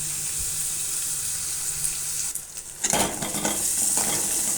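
Onions sautéing in a pan for a bottle gourd curry give a steady sizzling hiss, with a few stirring scrapes and clatters near the end.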